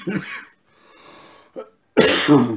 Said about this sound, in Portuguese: Tenho-vos a pedir imensa desculpa da tosse